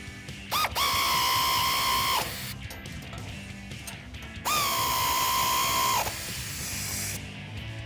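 A powered 16mm socket tightens the bracket bolts on a black Rough Country bull bar fitted to a 2016-2019 Toyota Tacoma. It gives two loud, close, steady whirring bursts of about a second and a half each, separated by quieter clanking.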